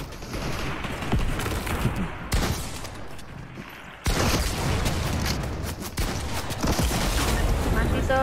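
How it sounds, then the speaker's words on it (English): Rocket launcher fire in the Fortnite video game on PS5, with repeated loud blasts and explosive booms in quick succession, dense and close, with a voice talking over the action. "Masih terus pakai rocket launcher."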